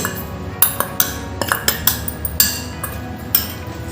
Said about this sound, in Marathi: खारीक पावडर ही आपण अगदी दोन ते तीन मिनिटाशी छान परतवून घेऊ